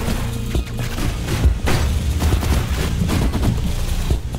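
Explosive shots and mines from the Blackbow boss in Hyper Light Drifter, a rapid dense run of punchy pops and thumping blasts with heavy low booms, continuous and loud.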